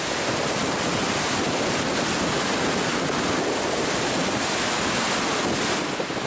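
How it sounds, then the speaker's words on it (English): Ocean waves roll in and crash on a Lake Superior shoreline at Pictured Rocks, Michigan, under steady strong wind, making a continuous loud roaring wash with heavy wind buffeting the microphone throughout and no voices. "Take a look at these waves coming in."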